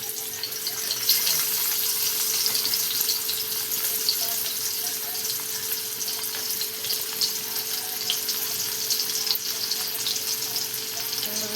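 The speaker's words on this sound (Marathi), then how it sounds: "बघा किती छान आपले कारले मस्त फ्राय होत आहे" Masala-stuffed bitter gourds fry in oil on a tava, giving a steady, moderately quiet sizzle with crackling pops and a faint steady hum, without any talking.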